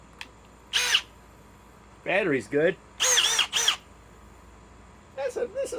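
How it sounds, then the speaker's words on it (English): A compact Milwaukee M12 Fuel third-generation cordless drill runs in several short, loud bursts of varying length, with someone talking between and over the runs. "This little M12 third generation drill packs a punch for as small as it is."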